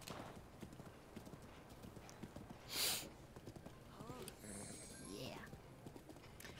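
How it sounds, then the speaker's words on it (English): Rhythmic clip-clop of a fast horse in the game Zelda: Breath of the Wild, its hooves steady and close, with a brief whinny, a burst of noise and game sounds while someone talks over it. "We got a speedy horse."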